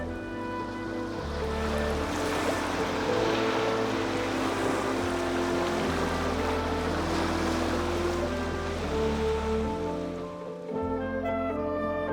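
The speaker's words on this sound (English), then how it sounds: "toward the coastline beyond, where land meets water under constant pressure" Waves break steadily against cliffs on the Irish coastline, a continuous loud surf roar mixed with wind buffeting the microphone, holding through most of the stretch before easing briefly near the end.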